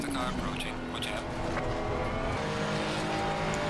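A Ferrari 296 race car in Assetto Corsa Competizione at Paul Ricard, its engine roaring steadily near and loud with shifting pitch as a faster car closes in, over continuous talk.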